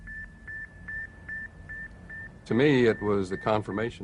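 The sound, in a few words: satellite radio signal beeping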